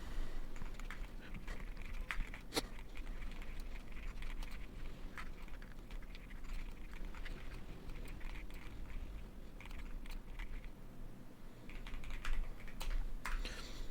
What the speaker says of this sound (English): All right, so I just typed out the prompt for the updated changes that we're going to make to this.